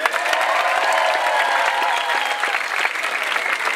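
Dense, sustained applause from a live hip-hop concert crowd in Athens, clapping loudly and steadily with shouts and cheers woven through, close and full throughout.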